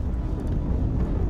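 A big Crimson Fleet spaceship approaches in the game Starfield, a dense, low engine rumble that stays loud and steady throughout the short moment.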